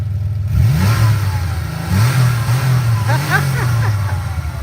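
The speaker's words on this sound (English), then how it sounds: "Let's hear some exhaust noise." A Subaru WRX on its stock exhaust revs up several times nearby, the engine note rising and falling as people talk over it.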